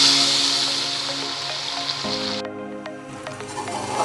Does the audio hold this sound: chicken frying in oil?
yes